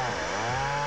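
A blender whirs loudly and close while blending a strawberry daiquiri, a brief steady motor drone with a harsh buzzing tone.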